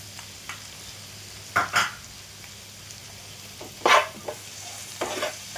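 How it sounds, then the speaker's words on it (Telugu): Vegetable curry with chili powder is stirred in a pan over a low, even sizzle, with a few sharp scraping strokes of the spoon standing out near and loud. "కారం వేసుకొని బాగా కారం కలిసేదాకా బాగా కలిపేసి కాసేపు స్టవ్ మీద మగ్గనివ్వండి."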